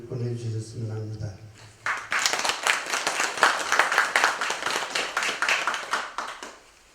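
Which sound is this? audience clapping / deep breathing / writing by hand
audience clapping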